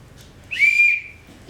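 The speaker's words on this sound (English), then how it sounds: "I brought along his boatswain's whistle, which he used to pipe command." A boatswain's whistle piped once, a short shrill steady tone that swells and fades within about half a second, heard alone and close.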